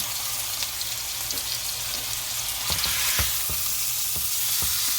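A jerk-seasoned T-bone steak fries in a pan with a steady close sizzle and crackle, punctuated by a handful of sharper pops and spits toward the end.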